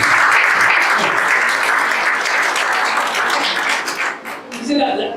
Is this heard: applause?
yes